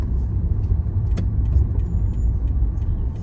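A car on a driving lesson pulls over to the left and stops, its engine a steady close low rumble with road noise throughout and no talking.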